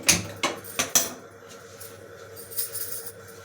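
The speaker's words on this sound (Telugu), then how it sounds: "గిన్నె పెట్టినాం డేస్గా." A cooking pot is set on a kitchen stove while egg curry is being made, giving a few sharp metallic clanks close by, then quieter faint clatter.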